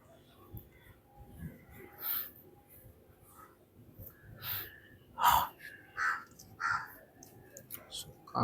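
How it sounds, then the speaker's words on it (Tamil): Crows caw faintly in the distance, a few spaced calls clustering toward the end over quiet room noise and soft breathing. "காக்காலாம் கத்திட்டு இருக்குதுங்க."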